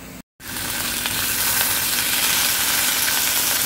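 Eggplant fries in hot oil in a pan, a loud, continuous close sizzle that begins after a brief silent gap and holds steady throughout.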